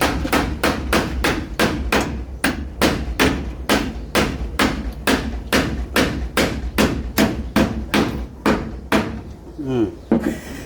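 Nails hammered into hard wood during a rural house repair, a steady run of sharp, evenly spaced blows close by, about two per second, continuing nearly throughout with a brief pause near the end.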